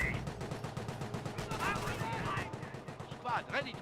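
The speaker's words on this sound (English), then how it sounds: "Another decoy barrage, I believe." A decoy artillery barrage in the WWII strategy game Company of Heroes 1 sounds as a dense, rapid stream of gunfire-like bursts and thuds, with a voice talking over it.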